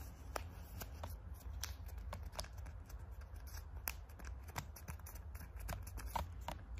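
A sheet of paper is folded in three, giving a series of crisp crackles and creases at close range over a steady low background hum, with no talking.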